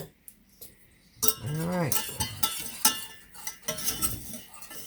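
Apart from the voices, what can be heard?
stirring a mixture in a bowl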